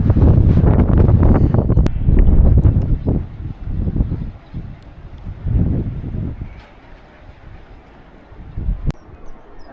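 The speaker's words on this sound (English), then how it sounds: "Pretty windy up here." Strong gusts of wind on a hilltop near Ollantaytambo, Peru, buffet the microphone in heavy rumbling bursts that rise and fade, louder early on and easing later.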